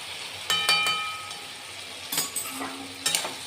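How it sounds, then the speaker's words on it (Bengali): Masala bhindi being stirred in a pan, spatula knocks and scrapes in a few clustered bursts over a low, constant sizzle, close-up and fairly quiet. "এবার নাড়াচাড়া করে নামিয়ে দেব"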